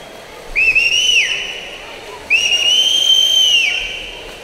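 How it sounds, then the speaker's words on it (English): Two long, loud shrill whistle blasts from coaches at an indoor high school district swim meet, each held about a second, echoing in the pool hall. "Yeah, you may hear some whistles and some barking."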